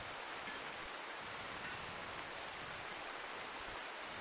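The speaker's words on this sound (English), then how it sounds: "It's a rainy evening on the 5th of December." Steady, even rain hisses throughout in the RimWorld colony-building game, a constant wash of rainfall with no other sounds.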